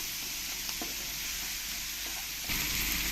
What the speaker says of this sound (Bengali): ভালো করে আমি মশলাটা কষিয়ে নেব